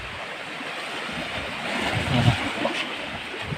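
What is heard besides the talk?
sea waves at the seashore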